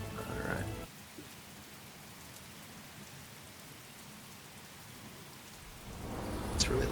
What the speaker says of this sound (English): Okay, we'll just use that rain then.